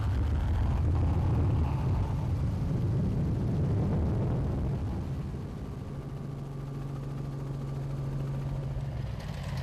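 Off-road race vehicles roar past during the 2014 Toyota Dealer 450 desert race, including a Dirt Sport Components Porter. A loud, continuous engine drone dominates throughout and eases slightly as the vehicles move away.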